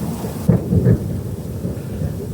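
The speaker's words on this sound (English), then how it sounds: "Lots of lightning lighting up the sky, and that followed, of course, with the booming thunder" Deep thunder rumbles through mountains during a rainstorm, with a low boom up front that rolls and echoes on under a steady wash of rain.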